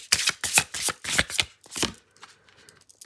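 Close-up shuffling of an oracle deck, with a series of quick, rhythmic card riffles and slaps for about two seconds, then a few soft taps and slides as a card is drawn.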